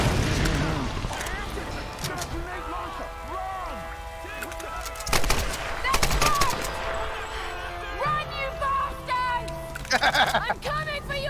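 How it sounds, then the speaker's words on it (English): Machine gun alternate fire in the Tomb Raider video game, heavy booming shots and bursts scattered through a tense game soundtrack, with someone talking over much of it. "I was wondering what the alt fire from my machine gun was going to be"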